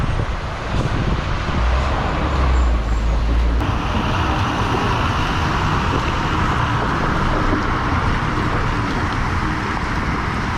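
A red MSRTC state transport bus rumbles along a road, steady loud engine and tyre roar close by throughout, with a low heavy pass early on and no voices.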